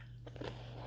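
Quick-pickled cucumbers and vegetables with a sweet-sour brine are bitten, giving a few close, crisp crunches in a quiet room with a steady low hum beneath.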